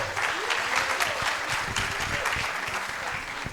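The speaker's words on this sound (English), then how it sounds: "is that how you can clap for your HOD?" Seminar audience applauding their head of department at a 20th anniversary event, a dense, steady wash of clapping throughout with faint voices mixed in.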